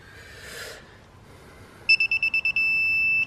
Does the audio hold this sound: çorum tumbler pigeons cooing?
no